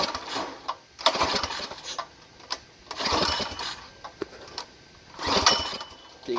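A Predator 212 small engine fitted with a Mikuni carburetor and stage 1 kit is pull-started, giving several short mechanical bursts and sputters with a brief catch but no steady running.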